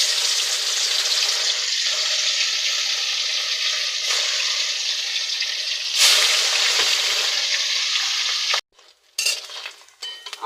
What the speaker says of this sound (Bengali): তেল গরম হয়ে গেছে, এবার তেলে দিয়ে দেব, দিয়ে ভেজে নেব।